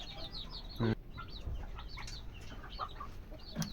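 Young desi chicks on a farm chirp and peep repeatedly in short high calls, fairly close, with a few louder thumps and bursts of handling noise among them.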